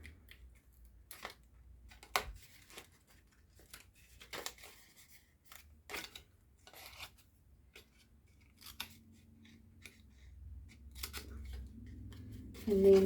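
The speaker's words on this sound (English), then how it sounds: "And then we're going to cut this whole piece away right here." Scissors snip through paper card while making a small matchbox, a series of sharp, close, quiet cuts spaced irregularly, with soft handling noise in between.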